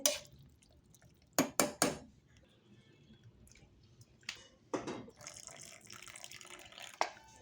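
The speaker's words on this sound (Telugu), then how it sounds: "నీళ్ళు వంపేసుకున్న" Water drained off boiled peanuts from a pot, with intermittent splashes and pouring bursts separated by quiet drips, plus a few faint clinks of the vessel, close and fairly soft.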